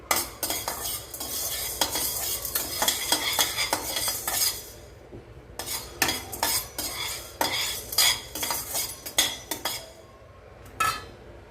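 Black pepper and moong dal dry-roasting in a pan on a low flame: repeated close metallic scraping and clinking of a spoon stirring the grains, coming in uneven bursts with short pauses and only a faint sizzle.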